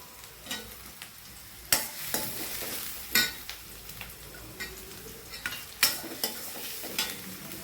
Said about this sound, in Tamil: சோயா சாஸ், வெங்காயம் மட்டும் நல்லா வதக்கிடுங்க